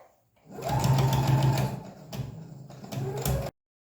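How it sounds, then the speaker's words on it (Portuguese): A sewing machine stitches closed the corners of a lined pouch in short close-up bursts, a steady mechanical whirring run, a brief pause, then a second shorter run before stopping. "eu vou lá na máquina e vou fechar esses 4 cantinhos"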